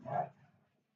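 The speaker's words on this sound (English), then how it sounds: "Sorry if you guys hear my dogs freaking the freak out." Household dogs barking in an excited burst at the start, then fading quickly into a faint tail, heard close by in an otherwise quiet room.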